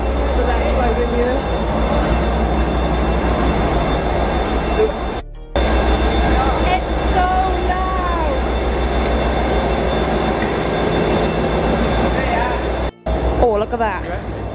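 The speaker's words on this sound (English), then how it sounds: "that train right there is his favourite" A DRS Class 37 diesel locomotive rumbles steadily at close range in heavy rain, its engine drone and rolling noise continuous over about fifteen seconds, with people talking excitedly over it.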